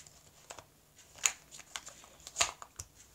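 Tarot cards riffled and shuffled by hand, soft papery flicks with a few sharper snaps, fairly quiet and close, no talking.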